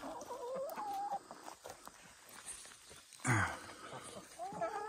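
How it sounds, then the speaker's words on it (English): Chickens cluck and murmur close by in a steady stream, with one louder squawk partway through and faint background noise. "how old do you think these chickens are?"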